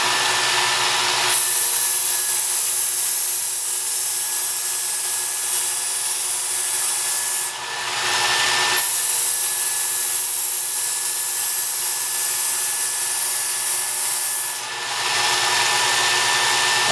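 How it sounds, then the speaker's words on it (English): Knife edge drawn across the abrasive belt of a Work Sharp Ken Onion powered sharpener, a loud steady grinding whir broken by two brief pauses between passes, up close with no talk. "I'm going to take the burr off this side and establish yet another burr at this X65 level."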